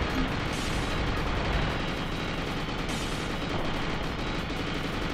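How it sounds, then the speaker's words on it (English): A small shooting helper fires in the game Highway To The Moon: rapid, continuous gunfire mixed with booming blasts, loud and dense for the whole stretch, with no talking. "Oh, I've got a little helper that shoots."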